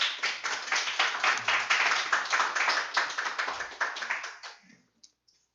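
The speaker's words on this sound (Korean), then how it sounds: "우리 박수로 환영할까요?" A church congregation claps to welcome a speaker, a loud, close burst of many hands clapping steadily for about four seconds before thinning out and fading to a few last claps.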